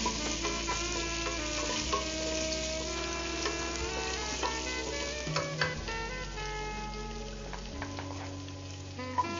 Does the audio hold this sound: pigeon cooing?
no